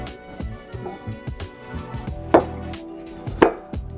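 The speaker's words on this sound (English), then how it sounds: "let's pull the lid off and let's get to slicing" A sharp knife slices through a warm, slow-cooked beef roast for beef dip, making soft repeated cutting and board-tapping sounds with two louder knocks, close up and without talk.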